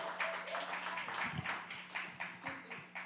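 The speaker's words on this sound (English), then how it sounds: "Give her a nice round of applause as she comes to the stage." An audience claps for former mayor Sheila Dixon, a short burst of scattered hand claps with uneven rhythm and a voice faintly under it.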